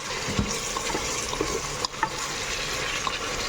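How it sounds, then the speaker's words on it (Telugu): Bottle gourd chicken curry stirred in a pot, with a steady simmering sizzle and occasional soft scrapes and clinks of the spoon, no talking. "ఇప్పుడు అంతా ఒకసారి కలిపేసుకుందాము"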